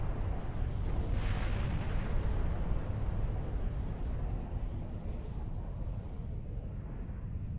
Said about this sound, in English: we've taken off the shields, we've taken off the armor, we've taken off the structure, and it explodes